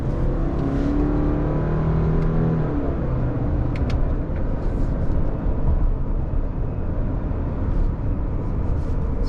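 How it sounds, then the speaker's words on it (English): Road noise and a low engine drone fill the cabin of a lifted 2021 Subaru Crosstrek Sport 2.5 on the move, a continuous rumble with light knocks from the suspension over bumps. "Definitely sounds for sure like you're driving a lifted vehicle."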